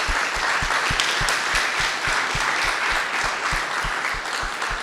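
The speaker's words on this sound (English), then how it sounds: "I think we should give both of them a round of applause" Audience applause at an event in a botanical garden: a steady wash of many hands clapping, sustained and fairly loud across the whole stretch, with no talking over it.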